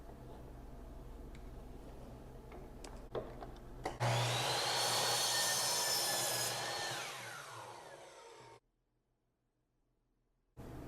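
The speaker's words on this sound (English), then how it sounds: "So I'm just going to cut a 20-degree angle on this." Wood being cut at a 20-degree angle with a power saw, a loud, steady whine running for about five seconds after a low motor hum and a few knocks, then winding down and stopping, with a brief silence before the hum returns.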